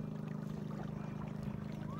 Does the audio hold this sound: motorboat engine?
yes